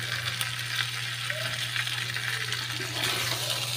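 Cauliflower pieces fry in oil in a home kitchen pan, making a steady, close sizzle and crackle throughout with a low background hum.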